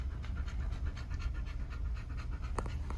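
Sammy, a dog out on an August dirt road, pants steadily in quick, rhythmic breaths heard up close over faint outdoor background.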